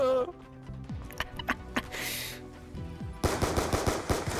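Gunfire in the Call of Duty Black Ops II video game: scattered single shots give way to a loud, rapid burst of automatic fire near the end, with voices talking through it.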